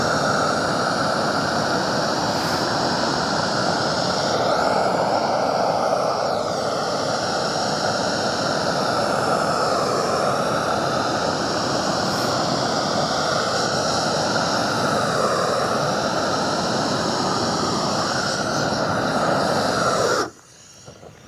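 A propane torch used for flame weeding along a driveway roars steadily and loudly for about twenty seconds, a continuous broadband rushing hiss that cuts off abruptly at the end.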